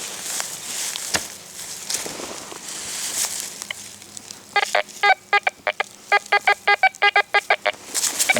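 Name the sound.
metal detector signal tone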